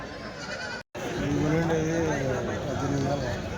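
Goats bleat again and again amid the bustle of a crowded weekly goat and billy-goat market in Kadiri, their calls rising and falling close by while people talk over them.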